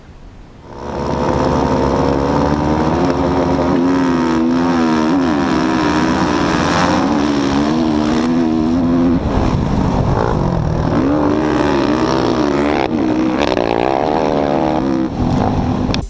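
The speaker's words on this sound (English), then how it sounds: "The state championships of motocross riding at the Wailua Motocross Track." Motocross motorcycles racing at the Wailua Motocross Track in Hawaii during the state championships, several engines revving and droning continuously and loudly, with pitch rising and falling as the bikes accelerate and shift.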